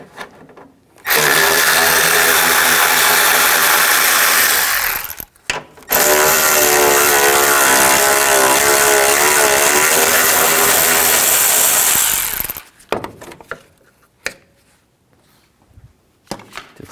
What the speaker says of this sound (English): Take these brackets off, use a 10mm socket,